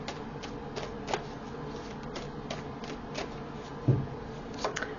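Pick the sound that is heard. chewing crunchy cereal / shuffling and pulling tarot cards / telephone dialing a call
shuffling and pulling tarot cards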